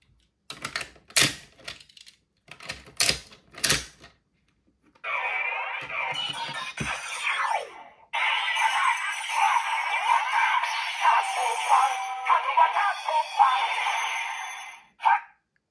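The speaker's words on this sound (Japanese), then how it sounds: "スキャン音がちゃんとセレメダルのカンカンカンじゃなくてキンキンキンになってましたね" Several quick clicks and taps, then a Kamen Rider OOO toy transformation belt scans a core medal: a bright electronic jingle with a ringing 'kin-kin-kin' melodic tone and sparkly effects, loud and close.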